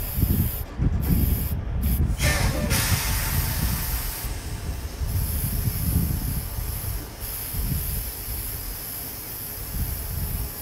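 An aerosol spray paint can hisses in several short and long bursts while coating dried allium flowers, close and loud, with quiet pauses between sprays.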